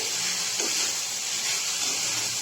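Sabudana khichdi stirred in a hot pan over a medium flame, giving a steady bright sizzle and hiss throughout, with a few soft scrapes of the spoon under it.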